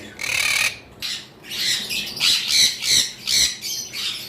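A green parrot kept for sale, giving a series of loud, harsh squawks close by, about half a dozen bursts in quick succession with short gaps between.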